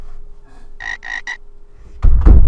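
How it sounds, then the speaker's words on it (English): A frog gives three quick, bright croaks in a tight rhythm, close and clear against a quiet background, followed by a burst of louder rustling noise at the end. "Let's have the sound of that frog right there on the fact."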